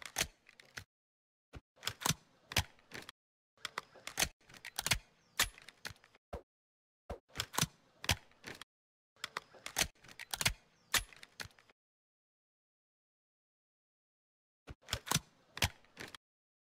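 Repeated gun reloads in the Minecraft Modern Military add-on, each a burst of sharp mechanical clicks and clacks, coming in clusters separated by short silences.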